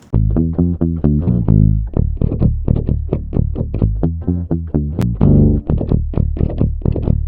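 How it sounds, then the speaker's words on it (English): A low, clean guitar line pitched down so it sounds like a bass played with a pick, steady plucked notes with a punchy attack, loud and alone. "this clean track that's pitched down basically just sounds like someone playing the bass with a pick"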